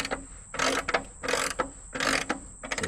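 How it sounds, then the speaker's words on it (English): A ratcheting mechanism being tightened while making lumber, with three loud, close bursts of rapid clicking separated by short pauses. "Alright, I'll flip it around and tighten it up."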